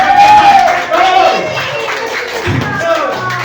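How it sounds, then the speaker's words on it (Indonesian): A seminar audience claps for themselves while voices talk loudly over the dense, scattered clapping and crowd noise. "coba tepuk tangan untuk diri Anda sendiri"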